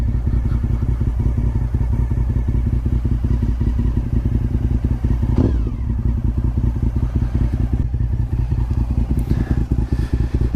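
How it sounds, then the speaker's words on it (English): A 2006 Honda RC51 V-twin motorcycle engine runs steadily up close and loud, a dense, throbbing idle with a slight blip partway through and light mechanical clatter, no talking. "this is my 2006 Honda RC51"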